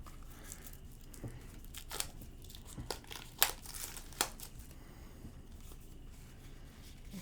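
Tight plastic wrapping on a Rick and Morty Monopoly box crinkles and tears close by, in irregular crackling bursts with a few sharper rips near the middle, then quieter rustling toward the end.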